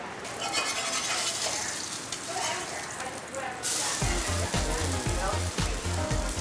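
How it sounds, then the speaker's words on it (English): English muffin halves toasting in sausage fat in a hot pan, a bright continuous sizzle up close with scraping and clatter joining partway through, no talk. "you can toast your English muffin halves in the pan"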